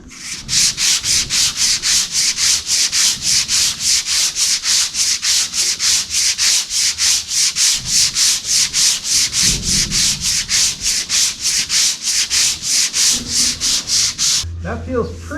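Hand sanding fairing compound on a boat hull with a longboard, rapid rhythmic back-and-forth rasping strokes, loud and close, steady for about fifteen seconds before stopping.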